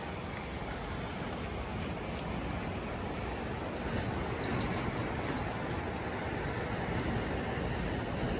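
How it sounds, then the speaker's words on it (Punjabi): Fast-flowing floodwater in a swollen river in Kullu Manali, a loud, steady broadband roar with no breaks and no voices. "ਉਧਰੋਂ ਪਾਣੀ ਦਾ ਬਹਾਵ ਬਹੁਤ ਜ਼ਿਆਦਾ ਤੇਜ਼ ਹੈ ਜੀ"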